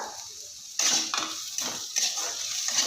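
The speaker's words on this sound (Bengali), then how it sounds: "দিয়ে ভালো করে নাড়িয়ে ভেজে নেব" Spices fry in a pan with green chilli while a metal spoon stirs them, giving a few sharp scraping and clinking strokes over a low background sizzle, close and fairly loud.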